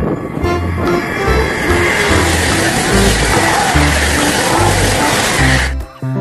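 A toy high-speed train runs steadily and loudly, with a dense rattling whir and a repeating low rhythmic pulse throughout, stopping abruptly near the end.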